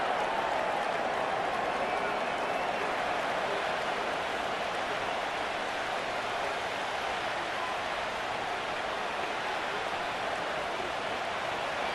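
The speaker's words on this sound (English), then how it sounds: "This crowd into it now as we get to third down." Stadium crowd noise in Madden 25, the Chiefs against the Raiders, a constant roaring wash of cheering held at even level throughout, with a commentator's voice faintly present beneath it.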